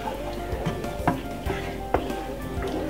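Fried chicken gravy with mixed herbs and salt being stirred in a pot, with a spoon scraping and tapping the pot over a soft simmering sizzle, a few distinct knocks in a slow rhythm.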